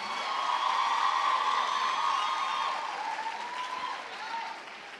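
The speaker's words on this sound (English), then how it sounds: "Another round of applause for our Drama Society." Crowd applause for a drama society at a campus health and wellness event in eMalahleni: a steady wash of clapping with some cheering and voices mixed in, tapering off near the end.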